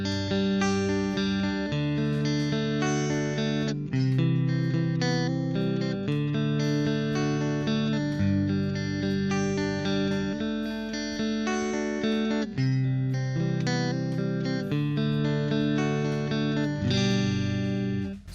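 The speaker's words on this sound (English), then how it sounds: "I will use a combination of only downstrokes and alternate picking." Guitar playing a song, using a mix of downstrokes and alternate picking; clean, steady chords and melody ring out continuously with no voices.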